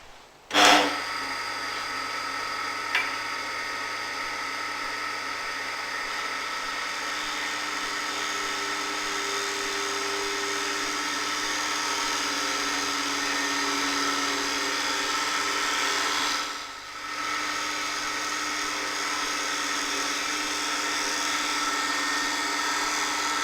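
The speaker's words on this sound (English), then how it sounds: "we can create a finer cut with the tool now presented at an angle much less than 45" A Robert Sorby Multi Tip Tool shear scrapes wood on a spinning lathe, a sustained whirring hum with a steady high-pitched cutting hiss, starting with a sharp onset and dipping briefly near the end.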